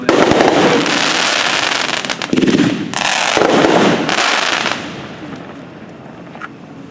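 A Red Rhino Roadshow fireworks cake fires in rapid succession, dense crackling bursts and booms for nearly five seconds, loud and close, then fading into a faint tail.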